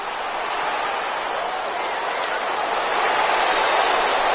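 A football stadium crowd applauds the defense after a stop forcing fourth down, a broad, steady wash of clapping that swells slightly toward the end.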